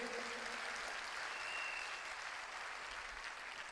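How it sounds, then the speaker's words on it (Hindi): An indoor audience applauds the company's founder and chairman at a direct-selling business meeting, steady even clapping held at a moderate distance throughout. "मैं चाहूंगा एक बार तालियां जोरदार डॉक्टर श्री अशोक भाटिया जी के लिए।"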